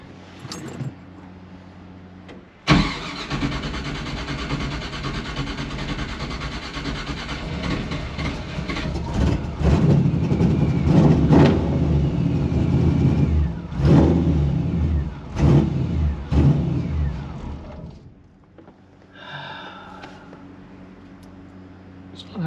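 A 1955 Chevy Nomad gasser engine starts abruptly and runs loud and rough with revving surges, then cuts out near the end, followed by a brief faint rattle.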